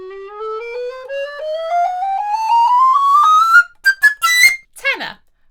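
Alto recorder rising steadily in pitch across its range, one continuous ascending line of notes, then a few short high notes and a quick falling slide; clear, close and alone.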